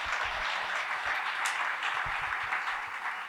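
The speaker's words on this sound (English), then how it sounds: "Give him another round of applause." An audience at a talk show claps steadily with dense applause, sustained and fairly even for the whole stretch, a few lower thumps mixed in and no talking over it.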